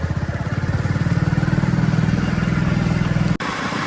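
A motorcycle ridden away from home onto a town road in Palanpur, its engine close and loud with a steady, rapid pulsing thrum throughout, cut by a brief dropout near the end.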